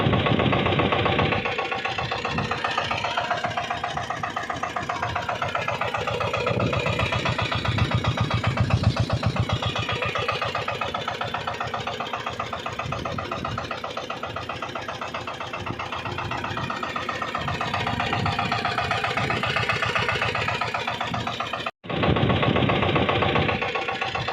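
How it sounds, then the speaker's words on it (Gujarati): An Eicher 188 tractor engine idles steadily up close, its low chugging rumble continuous for the whole stretch apart from a brief cutout near the end. "આપણા ટ્રેક્ટરનો અવાજ તમને સંભળાવું"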